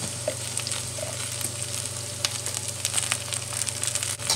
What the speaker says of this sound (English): Now we stir fry.